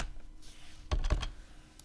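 A short burst of computer keyboard typing, a few quick clustered keystrokes in the middle of an otherwise quiet stretch, close and moderately loud.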